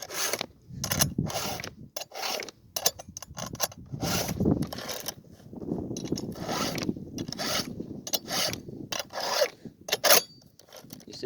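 A file is drawn by hand across the teeth of a chainsaw chain, producing a string of irregular rasping strokes, close and fairly quiet, with brief gaps between passes.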